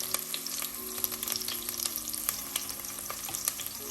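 Bottle gourd (opo) frying in a pan, a steady close sizzle with light scraping and stirring throughout, no voices.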